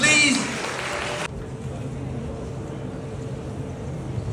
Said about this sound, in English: can we do the applause better, please?